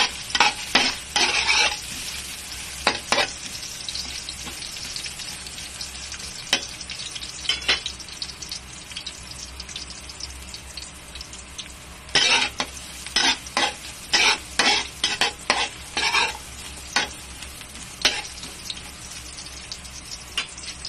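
Ginger browning in a frying pan, sizzling steadily while a utensil scrapes and stirs in repeated bursts of clatter, close up with no voices.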